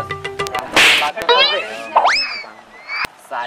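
Sharp comedic slap sound effects, two crisp smacks cracking out amid a busy comedy sketch with speech, cartoonish boings and whooshes.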